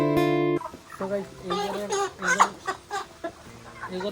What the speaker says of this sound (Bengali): দেখতে পারা মুরগিগুলো দানা খাইতেছে এখন।